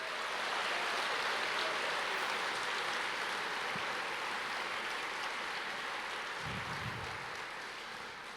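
A church congregation claps in praise, a dense continuous patter of many hands that holds steady, then tapers off toward the end.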